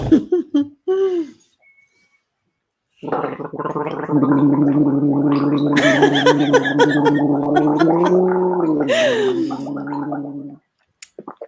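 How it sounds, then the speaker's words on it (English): A person gargling water in a long, sustained, bubbling throat gargle that lasts about seven seconds, preceded by a few short voiced sounds and a pause. "What a sustained gargle you are capable of."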